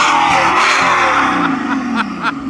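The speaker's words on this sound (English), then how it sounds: "so now you're revving it" A Mercedes S65 AMG V12 car engine revs loudly up and then drops, its pitch sliding down as the revs fall, close and forceful.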